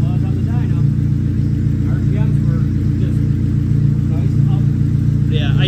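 A newly installed car engine idling smoothly, a steady low rumble holding an even note throughout, loud and close, with some faint voices and noises above it.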